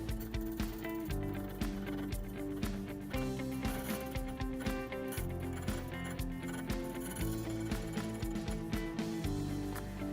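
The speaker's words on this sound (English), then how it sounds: "Trace the original key hitting all peaks and valleys of the cut, at the same time putting pressure up against the blade." A key duplicating machine cuts a key with a steady mechanical whir overlaid by rapid, rhythmic grinding and ratcheting clicks as the original is traced across its peaks and valleys, loud and close throughout.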